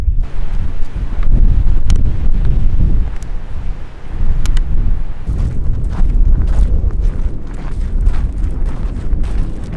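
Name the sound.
wind blowing into microphone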